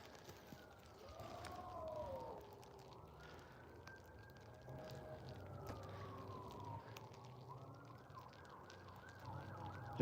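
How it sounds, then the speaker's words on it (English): A wailing emergency siren rises and falls steadily over about ten seconds, fairly distant and continuous over a low outdoor background rumble, with no talk in the clip. "If the sirens would stop, you'd hear them clear as day"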